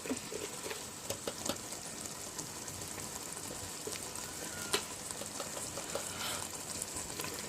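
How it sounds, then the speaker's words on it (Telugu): Salted curry being stirred in a pan, a steady soft sizzle with scattered scraping clicks of the spoon, fairly faint and continuous. "ఉప్పు కూడా వేసుకొని బాగా కలుపుకున్నాం"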